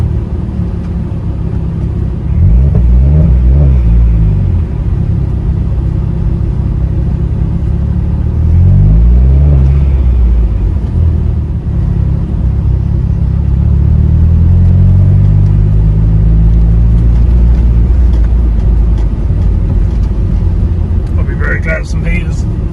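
A parked car's engine idles steadily as it warms up on a damp evening beside a river in Norfolk, a loud low rumble filling the cabin, with a few swells in pitch and a brief rattle near the end.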